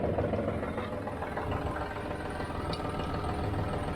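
A John Deere 5055d tractor engine idles close by with a steady, rumbling mid-pitched chug. The motor runs continuously with light knocking and vibration, and no voices are heard.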